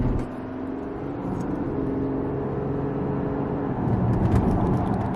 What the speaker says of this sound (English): It does make a bit of a noise, but I think that's just something about the 50 TDI engine.